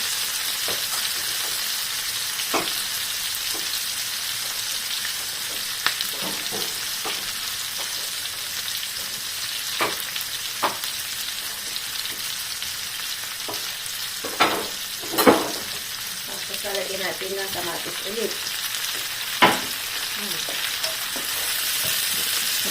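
Bean sprouts (tauge) stir-fry in a pan with a steady, bright sizzle, punctuated by scattered clicks and scrapes of a utensil stirring against the metal, close up and with no talking.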